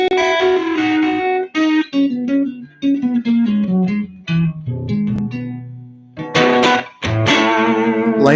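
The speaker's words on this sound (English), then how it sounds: "I'm right on the edge of breakup, which is where I like to live. So I can control the distortion with my hands." Electric guitar played through an amp set right at the edge of breakup, a run of single notes and bends with light crunch, ending in louder strummed chords, close and alone.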